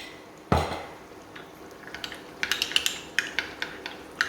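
A dessert spoon scoops pickle from a jar, opening with one sharp clink, then a run of quick light metallic taps and scrapes as it stirs, close and clear with no talk.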